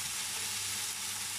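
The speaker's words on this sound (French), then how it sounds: "je vais faire revenir mon oignon" Chopped onion sizzles in a pan with sliced saucisson releasing its fat, no oil added, giving a steady close frying hiss throughout with no talking.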